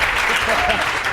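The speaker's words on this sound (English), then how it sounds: "A little applause for the daring among us" A crowd at a festival panel gives a short burst of applause, a dense clatter of hands lasting about a second, with voices mixed in.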